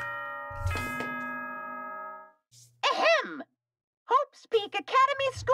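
Danganronpa 2: Goodbye Despair plays its announcement chime, a sustained ringing bell tone that fades out, followed by bursts of expressive voices speaking.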